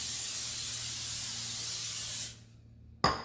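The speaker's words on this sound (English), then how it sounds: "I'm gonna spray my pan." Cooking spray hisses steadily from an aerosol can onto a pan for about two seconds, then cuts off, followed by a brief faint clatter.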